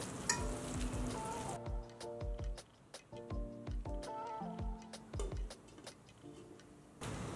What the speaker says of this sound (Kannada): ಹುರಿದಿರೋ ಓಟ್ಸು ಮೀಡಿಯಂ ಫ್ಲೇಮಲ್ಲೇ ಬೇಯಿಸ್ಕೊಳ್ಳೋಣ